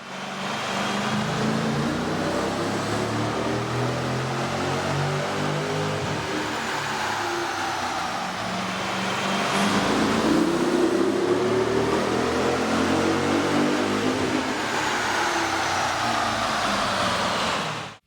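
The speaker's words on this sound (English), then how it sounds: "With the air intake installed, we ran the vehicle on the dyno to test the sound comparison versus the stock intake." A Dodge Challenger with the 6.4L engine and an aftermarket air intake runs on a dyno, its engine drone holding steady and loud throughout, with a slight rise in intensity partway through and no talking.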